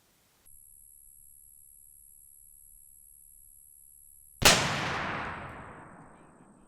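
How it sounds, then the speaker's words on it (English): A single loud 8mm Mauser rifle shot fired outdoors at a self-healing target, after several seconds of quiet hiss. The sharp crack trails off into a long, fading rumble. "that is chambered in 8mm Mauser. Pretty sure this is going to do some damage to that target"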